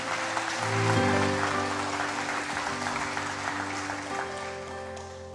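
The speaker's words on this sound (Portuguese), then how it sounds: "Vamos dar um forte aplauso ao Senhor Jesus." A church congregation breaks into loud, sustained applause, a thick wash of clapping over a steady held tone from music or an organ, with little voice over it.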